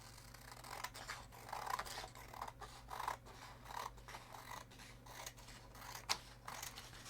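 Scissors snip through material for a cosplay costume in short, quiet, irregular cuts. Faint rustling and a steady low hum sit underneath.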